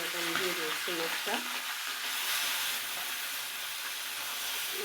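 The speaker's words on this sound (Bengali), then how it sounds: "আমি আস্তে আস্তে মাছটা ভেজে নেব।" A fish head fries in oil in a kadai, giving a steady hissing sizzle with a few clattering knocks early on, then settling into an unbroken spatter.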